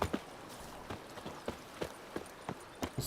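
Horse hooves in The Witcher 3 video game, a brisk, regular clip-clop of galloping steps with sharp, evenly spaced thuds, fairly close and clear, with no talk over it.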